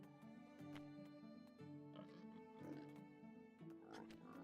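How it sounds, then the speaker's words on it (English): Pigs oink in the medieval farming game Medieval Dynasty, a few grunts rising in the background beneath a steady, sustained tonal music bed. "I hear a bunch of oinking in the background."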